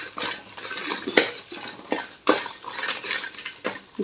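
Ingredients are stir-fried in a pan. Metal spoon scrapes and clinks against the pan over a light sizzle, with irregular sharp knocks every second or so. It sounds close, with no voices.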